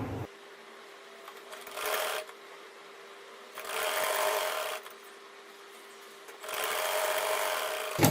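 An electric sewing machine stitches the hem of a salwar, running in three separate bursts of rapid whirring with quiet pauses between them, close up and alone without talk.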